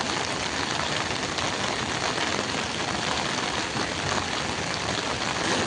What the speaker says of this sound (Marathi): 6 वाजे आले तरी पावसाचं जोर कायमच.